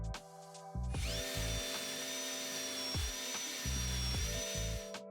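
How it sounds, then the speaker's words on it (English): Power drill boring a hinge cup recess with a Forstner bit in solid wood for a cabinet, a loud steady whine held for about four seconds with a brief dip, no speech. "The kit I used came with the Forstner bit for drilling the hinge cup recess."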